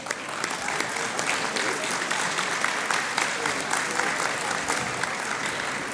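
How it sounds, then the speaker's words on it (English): Dense, steady applause fills a large hall at a gala awards dinner celebrating ethnic business, a loud continuous crowd of clapping hands with no pauses. "I think that deserves a round of applause."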